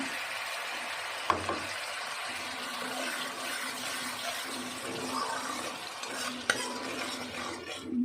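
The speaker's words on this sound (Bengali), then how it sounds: "মশলাটা যাতে পুড়ে না যায় তাই একটু জল দিলাম" Spices frying in a pan for a Bengali fish dish, with a splash of water added to keep them from burning: a steady close sizzle and bubbling, broken by two sharp clicks against the pan.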